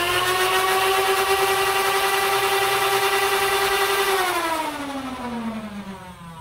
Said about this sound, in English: When you rev it, it makes... it makes two different sound effects and it lights up.